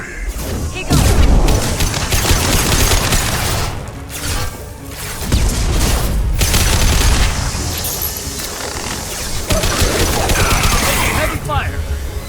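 Heavy sustained gunfire and booming blasts in Mass Effect 2 combat, dense bursts rolling on almost continuously with brief lulls, loud and close, with voices talking at times over the fighting.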